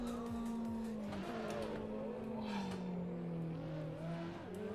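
A Ferrari in the Assetto Corsa racing game brakes hard on a downhill mountain pass. A steady engine drone falls in pitch as the car slows, with faint tire scrub over it and no talk.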